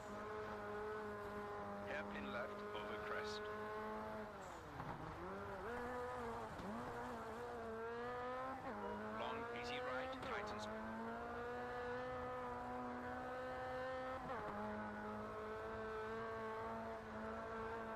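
Rally cars race in the video game Rallisport Challenge 2, engines whining and rising and falling in pitch through gear changes, loud and continuous for the whole stretch.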